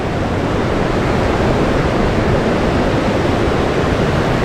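A rushing river on the Wonderland Trail at Mount Rainier, a steady, dense roar of fast water close by, continuous and unbroken with no voices.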